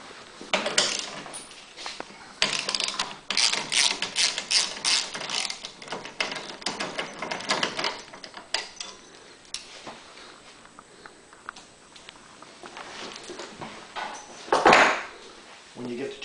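Bolts being removed from the handlebars of a Honda EU7000iS generator: close metallic clicks, ratcheting and clinks of hardware come in scattered bursts while a person talks over them.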